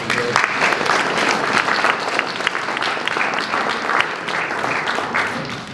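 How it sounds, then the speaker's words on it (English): Audience applause at a university history department recognition ceremony, a dense, steady wash of many hands clapping at close range, loud and sustained for the whole stretch without talk. "Let's give them all a round of applause."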